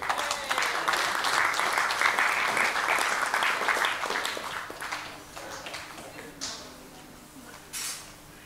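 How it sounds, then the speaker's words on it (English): A crowd at a church awards ceremony claps and cheers loudly, the applause swelling then tapering off into scattered claps, with a few voices calling out over it. "can you all give a round of applause for these churches?"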